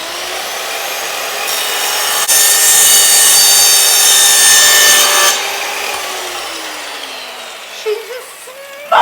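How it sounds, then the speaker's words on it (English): A saw rasps steadily through plastic pipe for a koi pond filter for several seconds, a bright, gritty cutting noise that stops abruptly, followed by quieter shuffling and a clunk. "I know this pipe can spin when you cut it, so I did tell him I'm going to cut this"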